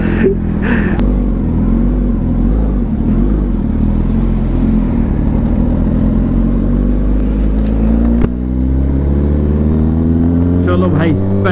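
Loud Kawasaki ZX10R motorcycle engine while riding, a steady close drone that rises in pitch as it revs and accelerates near the end.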